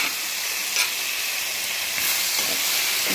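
Sago pearls roast in ghee with a continuous bright sizzle and hiss, broken by occasional faint stirring scrapes, close and fairly loud with no talking.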